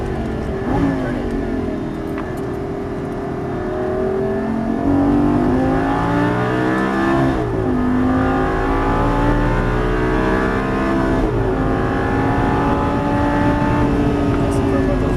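A Lamborghini Gallardo LP550-2 revs hard under acceleration on a Las Vegas race track, its engine note climbing in rising sweeps and shifting steadily for the whole stretch, loud and close with an instructor's voice talking over it.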